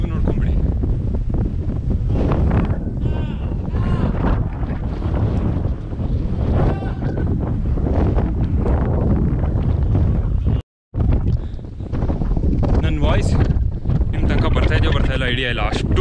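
Strong wind buffets the microphone on the Shivagange hilltop, loud gusty rumbling roar throughout with people talking over it and a brief cut near the end.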